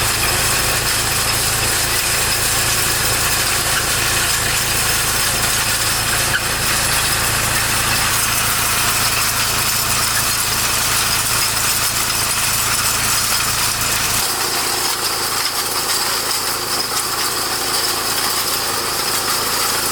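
Tractor engine running in an organic carrot field, a loud, steady hum with rattling vibration that drops in pitch and weight toward the end, with no voices.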